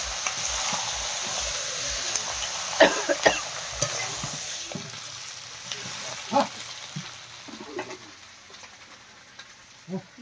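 Country chicken pieces fry in a spiced masala with a steady hiss and occasional scraping stirs. Faint birdsong drifts in from the background and no one speaks.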